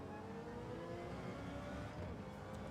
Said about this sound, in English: you can hear him revving the boxer motor right out.